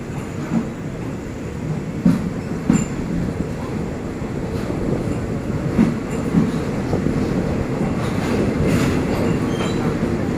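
Thai express train 108, Den Chai to Bangkok, pulling into Phitsanulok station, a loud steady rumble of rolling railcars with repeated wheel clacks and faint squeals, continuous and close throughout.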